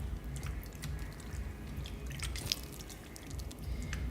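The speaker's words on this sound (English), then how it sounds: "we are going to be splashing in some water" Water trickles and drips onto a freshly transplanted corn sapling, with scattered splashy drops and soft liquid spatters over a quiet low background.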